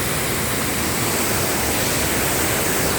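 Rushing water at Mo Paeng waterfall, a dense, constant roar of broadband noise that is loud and unbroken from start to finish.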